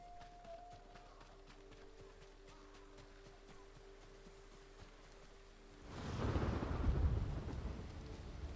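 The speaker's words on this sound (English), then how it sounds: "And the thunder rolls." Thunder rolls in the video game Ghost of Tsushima, a rumbling swell rising midway over steady rain and ambient noise, fairly faint overall.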